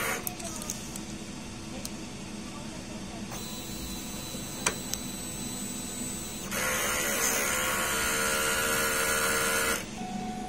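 A DTF printer runs a strong head-cleaning cycle with whirring and clicking mechanical motion close by. It grows noticeably louder and more intense midway through, then drops back near the end.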